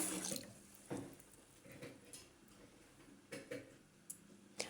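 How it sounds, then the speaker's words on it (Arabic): Rice is washed under running water for a Tunisian Djerba-style rice dish: faint water flow with intermittent splashes and clinks as the grains are rinsed and stirred in a bowl. "هوني انا بديت نغسل في الروز، نغسلوه مليح مليح باش نحى منه نشا"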